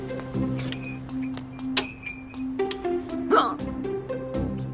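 A person hiccups several times in quick irregular bursts, short sharp gulping catches close by, with some faint background clinks between them.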